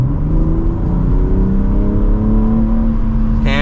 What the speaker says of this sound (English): Let's give it some gas here.